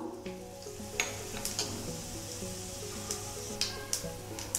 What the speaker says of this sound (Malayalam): എണ്ണയൊന്ന് ചൂടായിട്ട് വരുമ്പം അതിലേക്ക് കടുക് ഇട്ട് കൊടുക്കാം. അതുപോലെ തന്നെ ചെറിയ ജീരകം എടുത്തിട്ടുണ്ട്, അതും കൂടെ എടുത്ത് കൊടുക്കാം.